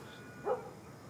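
A single short dog bark in The Last of Us Part 1, faint and somewhat distant over a quiet low background hum.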